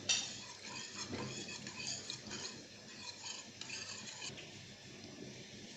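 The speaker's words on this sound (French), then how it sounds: "Et on va remuer à l'aide d'un fouet." A whisk stirs a mixture for a spinach gratin in a pot, producing soft continuous scraping and swishing with light metallic taps, quiet and close, with no voices.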